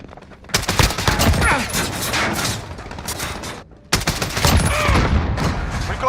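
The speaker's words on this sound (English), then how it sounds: "It's hard to make a suppressed gun sound this thick, but Infinity Ward nailed it." Suppressed gunfire in a Call of Duty game, rapid bursts of muffled shots in two long volleys separated by a brief lull, loud and close with battle effects layered in.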